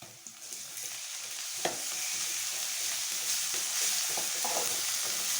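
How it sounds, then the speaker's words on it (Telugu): Ginger garlic paste and sliced onions sautéing in a pan for egg keema, a continuous bright sizzle that swells as the paste goes in, with a few scraping stirs and clicks nearby. "ఇప్పుడు అల్లం వెల్లుల్లి పేస్ట్ వేసుకుందాం"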